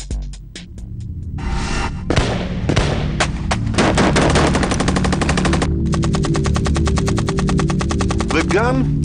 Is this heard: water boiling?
no